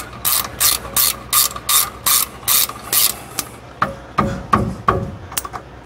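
Hand ratchet tightening the rear brake bolts on a Ford F350 dually, a run of about eight regular bursts of rapid clicking followed by several sharper, uneven clicks and knocks, close and loud with no talk.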